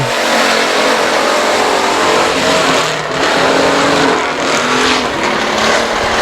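Race cars roar at full throttle on the final lap at I-37 Speedway, a loud, dense, continuous engine drone with shifting pitch as the pack charges through the last turn.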